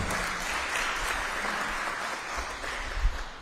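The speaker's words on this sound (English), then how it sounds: "A round of applause for Ms. Lidith Powell." A live audience claps steadily for an introduced judge at a speech and drama competition, a dense even wash of applause that holds at full strength and thins slightly toward the end.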